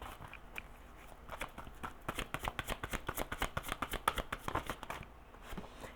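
An angel tarot card deck is shuffled in a rapid run of crisp riffling flicks, close and fairly quiet, with no talking.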